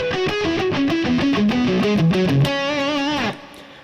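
Distorted electric guitar plays a fast descending pentatonic lick of quick repeated notes, ending on a sustained bent note that cuts off, loud and close with no speech.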